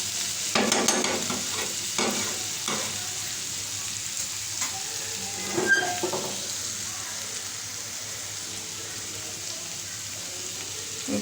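Bitter gourd (karela) frying in a pan with a steady sizzle, broken by repeated scraping and clatter of a spatula stirring it, close up and with no talk.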